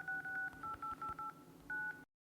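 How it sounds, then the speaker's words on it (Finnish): Telephone keypad tones beep through about nine quick presses as a number is dialed to call a dentist, the tones close and clear over faint room noise before cutting to silence. "Mä soitan Oskarille."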